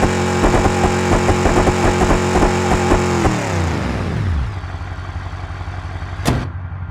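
A car engine runs with its exhaust line removed, loud and raw with rapid revving pulses, then winds down into a falling drone before a brief sharp click near the end.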